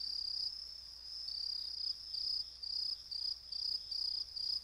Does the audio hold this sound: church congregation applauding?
no